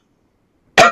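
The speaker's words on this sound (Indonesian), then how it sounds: "Bapak batuk" A single short, sharp cough from a man, close and loud, after near silence.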